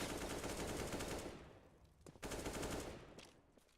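Automatic gunfire rattles in rapid bursts during a CS:GO match, loud and dense at first, then thinning into scattered shots after a short lull.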